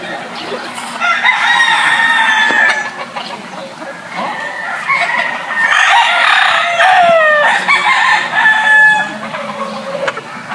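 Game farm roosters crow loudly and repeatedly nearby, their long strained calls overlapping, with clucking hens filling the gaps.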